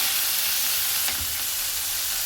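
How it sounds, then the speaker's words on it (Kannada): Chopped green chilies fry in hot oil for idli upma, a steady close sizzle hissing evenly throughout with no talking. "ಹೆಚ್ಚಿಟ್ಕೊಂಡಿರೋ ಮೆಣಸಿನ್ಕಾಯಿನ ಒಂದು ಸ್ವಲ್ಪ ಚೆನ್ನಾಗಿ ಬಾಡಿಸ್ಬೇಕು"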